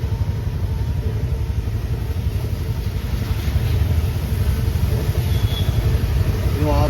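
An auto rickshaw engine running steadily after starting, a loud, close, rattling low putter that holds an even rhythm throughout with a faint rise in intensity partway through.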